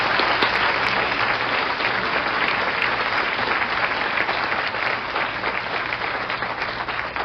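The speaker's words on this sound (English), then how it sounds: "Let's have one more round of applause." Sustained audience applause for a panel of community women, dense and steady throughout with no breaks, filling the room at an even loudness.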